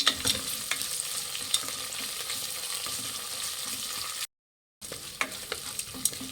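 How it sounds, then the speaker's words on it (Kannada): Green peas frying in a pan while cooking akki usli, a steady crackling sizzle with stirring scrapes, close by, cut by a brief silent gap before the frying resumes. "ಈಗ ಒಂದು 2 ಟೇಬಲ್ ಸ್ಪೂನ್ ಆಗೋಷ್ಟು ಬಟಾಣಿ ಹಾಕ್ಕೊಳ್ಳಿ. ಫ್ರೈ ಮಾಡಿ."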